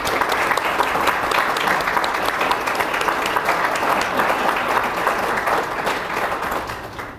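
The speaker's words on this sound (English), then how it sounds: "If you please stand so we can give you a round of applause." Sustained applause from a room full of people honoring a mayor and city council members at an event at the Dome, steady and dense clapping throughout, tapering slightly at the end.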